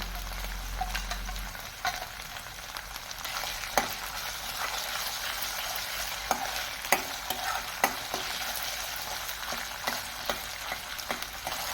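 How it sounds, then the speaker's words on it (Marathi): Ginger garlic paste fries in oil in a close, steady sizzle, with scattered clicks and scrapes from stirring and no voices. "एक चमचा आलं लसूण पेस्ट ती देखील आपण तेलावर व्यवस्थित परतून घेऊया"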